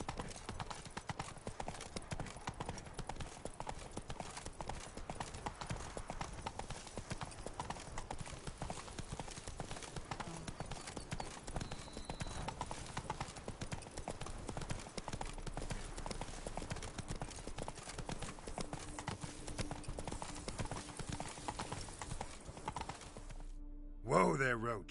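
Roach the horse's hooves clip-clopping in a steady walking rhythm in the video game The Witcher 3: Wild Hunt, close and quiet, with a brief low stop near the end.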